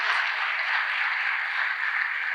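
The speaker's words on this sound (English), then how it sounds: "all of us should give a big round of applause to this class of" An audience at a school valedictory ceremony applauds the graduating class with dense, steady clapping, a continuous wash of many hands at even loudness and no voices.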